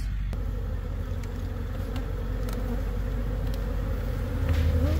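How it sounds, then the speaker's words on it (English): Bees swarm in numbers around a beehive on the grounds of the Rose Bowl stadium, making a dense, continuous buzzing drone with occasional louder passes close by, and a faint motor hum underneath. "got a beehive on this property here. We got some beehive activity here."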